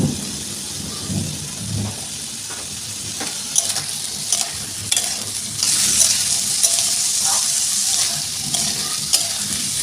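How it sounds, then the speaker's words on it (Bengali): Rice and dal with turmeric and salt being stirred in a pot, soft scraping and shuffling strokes with a few light knocks, backed by a broad hissing wash. "জাস্ট একটু নেড়ে নেব চলো একটু নেড়ে চেড়ে নিয়েছি"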